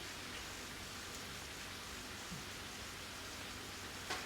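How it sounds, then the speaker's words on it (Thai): Heavy rain pouring down steadily as an even, hissing wash that fills the whole stretch, with a couple of faint knocks and no voices. "ฝนตกมากแต่เย็นช่วยช่วยค่ะ"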